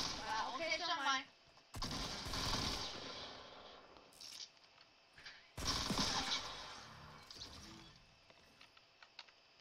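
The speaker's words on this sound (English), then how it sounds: "Someone just shot at me." Fortnite gunfire in two loud bursts of rapid shots, each lasting a few seconds with a pause between, a voice talking briefly at the start.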